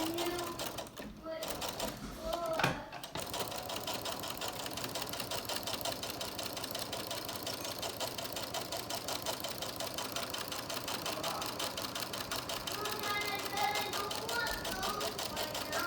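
A sewing machine stitches fabric binding ties for masks, running in a steady, fast mechanical whir with a rapid needle rhythm after a brief pause and a few knocks at the start, close and continuous.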